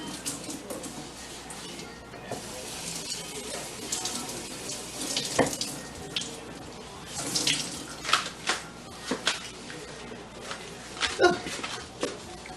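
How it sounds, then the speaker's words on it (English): Kitchen tap water runs into a sink to wet a cloth during turnover baking, a continuous gushing stream broken by uneven splashes and soft clatters close by. "So I need another cloth, so I'm just wetting another one."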